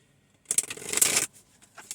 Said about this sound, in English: So let's go ahead and shuffle this deck.